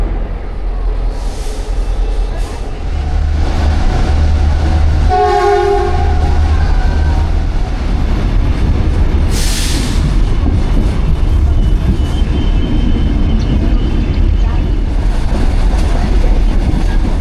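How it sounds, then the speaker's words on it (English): Packed passenger train running on the Queensland rail line, a steady loud rumble throughout with brief horn-like tones near the middle and no talk. "One train's been cancelled, so they're squeezing everybody onto the train we're on."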